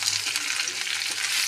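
Taro (kochu) and potato pieces fry in hot oil in a pan for kochu mukhi rosha, making a loud, bright, continuous sizzle heard up close, with no talking.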